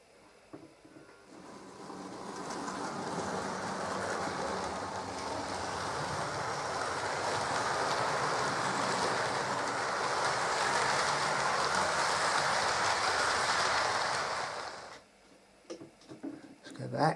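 A 1967 Hornby Brighton Belle model train running with its motor whirring steadily, a soft continuous hiss-like drone lasting about fourteen seconds before cutting off, fairly quiet and close.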